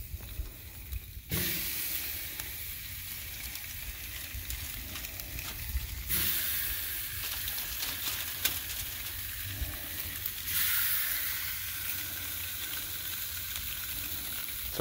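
Salmon fillets hit hot grill grates with a loud, steady sizzle and hiss that swells in bursts as more pieces go down, running continuously without speech.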